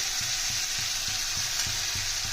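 Powdered spices sizzle and fry steadily in a pan for a Bengali rui fish curry with cauliflower, potato and tomato, with a bright continuous hiss and soft rhythmic stirring scrapes beneath, no talking.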